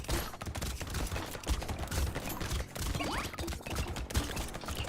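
Weapon fire in the video game Brotato: rapid, dense bursts of gunshots crackle continuously alongside game music and effects, loud and busy throughout.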